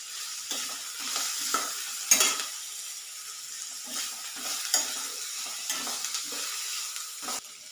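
Chopped onion and green chillies fry in a pan, with a steady soft sizzle broken by repeated scraping strokes of a spoon stirring them; no voices.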